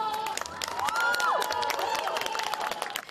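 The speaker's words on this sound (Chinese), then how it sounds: "小鸭成功吊起，现场响起一片掌声" A crowd outdoors claps and murmurs while a giant inflatable rubber duck is hoisted by a crane, with scattered applause and rising voices under a sliding whistle-like tone.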